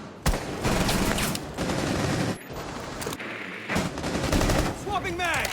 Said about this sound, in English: Thermite in a gunfight with this Azami, trying to take map control.